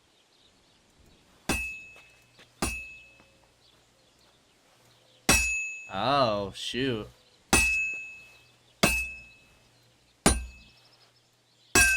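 A hammer strikes a sword on an anvil in the game Kingdom Come Deliverance 2: six sharp metallic clangs ring out at uneven intervals, each decaying briefly, with a short spoken exclamation between strikes.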